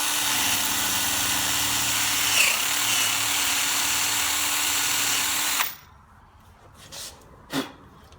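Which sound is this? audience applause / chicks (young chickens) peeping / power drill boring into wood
power drill boring into wood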